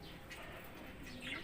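A bird, likely a dove, coos indoors near a nest, a soft low warble rising faintly near the end over a quiet roomy background hiss.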